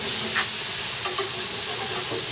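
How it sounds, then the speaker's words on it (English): Steady, loud sizzling hiss of food cooking on a hot grill, continuous throughout with faint crackles. "Sizzle, sizzle."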